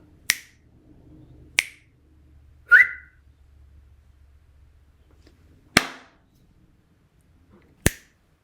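Five sharp, isolated finger snaps spaced irregularly over several seconds, close and crisp against near silence, tested for a sound-recognition project; one snap sounds slightly tonal.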